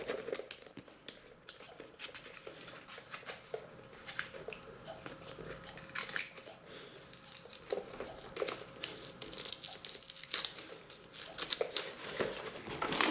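Cardboard and plastic crinkle and scrape up close as the Hadara board game box is worked open from the back, with quiet irregular rustling and tearing bursts and no voices.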